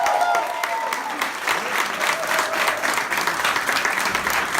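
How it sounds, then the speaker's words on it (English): An audience at a drama school panel event in London claps steadily, a dense, lively round of applause from a nearby crowd lasting several seconds. "So another round of applause for him."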